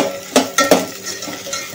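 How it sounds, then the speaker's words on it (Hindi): Onions and capsicum stir-fried on a high flame while a chicken lollipop dish is made, with a soft sizzle beneath three sharp clanks of a spoon against the pan, then lighter scraping. "हे मस्तपैकी हाय फ्लेम वरती आपल्याला हे फ्राय करायचं आहे"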